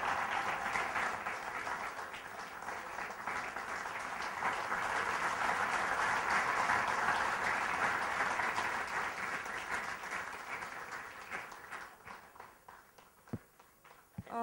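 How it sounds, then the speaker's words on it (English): A standing ovation from an audience at a management lecture, with dense, even clapping that swells through the middle and thins out toward the end, leaving a few scattered claps. "Can we have a standing ovation, everybody?"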